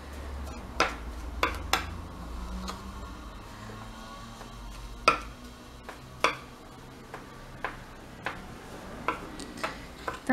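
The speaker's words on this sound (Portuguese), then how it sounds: "Então, você vai mexendo bem, misturando bastante." A homemade recipe is stirred and mixed by hand in a container, with sharp, irregular clinks and taps of the utensil against the sides standing out clearly over a quiet background.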